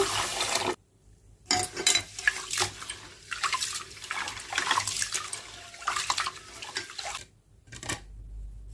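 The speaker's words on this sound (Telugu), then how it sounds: "ఇప్పుడు వాటర్ అనేది పోసుకొని రెండు మూడు సార్లు శుభ్రంగా వాష్ చేసుకున్నామండి బియ్యాన్ని" Rice for chicken biryani is washed in water two or three times, with repeated splashing swishes and pours broken by short pauses and occasional clinks of a pot, close and clear.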